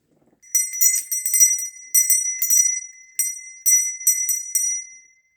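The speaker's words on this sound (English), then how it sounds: "The bell sometimes changes the energy." A small bell rings in quick clustered bursts, several bright metallic dings in groups with short pauses between, crisp and close against near silence.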